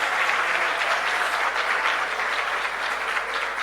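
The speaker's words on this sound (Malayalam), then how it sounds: "കൈയടിച്ച് ശക്തിയോടെ സ്തോത്രം പറ" A church congregation claps hands together in praise during a fasting prayer session, a dense, steady roar of applause filling the room for several seconds without letting up.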